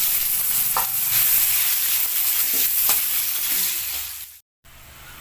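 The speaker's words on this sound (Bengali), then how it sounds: "আলু ভাজা হয়ে গেছে" Potatoes fry in oil in a wok with cumin seeds and bay leaves, giving a steady, close sizzle with a few stirring scrapes, then a brief cut to silence near the end.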